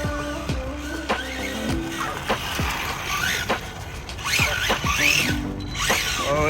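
A Kyosho 1970 Dodge Charger RC car with a brushless motor on 2S power drives in short runs. Its electric motor whines and sweeps up and down in pitch in quick bursts, close and fairly loud.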